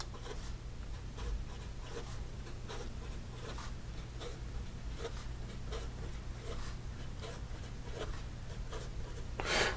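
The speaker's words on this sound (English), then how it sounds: "it is very scratchy, but it does lay down a very nice extra fine line. And then in regard to some fast writing" An Omas Cristoforo Colombo II fountain pen with an extra fine nib writing fast on paper, a steady close scratchy scribble with rhythmic stroke bursts, quiet and continuous; no talking.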